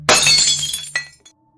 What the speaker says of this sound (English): This time the glass gives up on life and shatters into a million sparkling pixels.